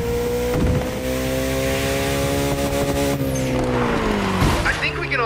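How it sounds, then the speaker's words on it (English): A Koenigsegg supercar in The Crew Motorfest drives through a neighborhood with a loud, steady engine drone whose pitch holds high, then dips and rises again as it shifts. "This Koenigsegg is fast"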